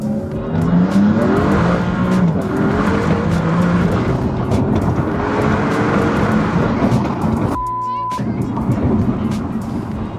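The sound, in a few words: Maserati MC20 car with modified exhaust driving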